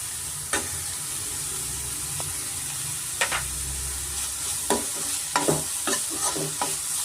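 Capsicum sizzles in a hot pan for tomato egg rice, a constant close frying hiss with several sharp spatula scrapes and clacks as it is stirred, no talking.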